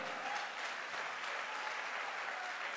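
Steady, even applause from a crowd at a direct-selling motivational event, a continuous wash of claps heard at a distance with no voices over it.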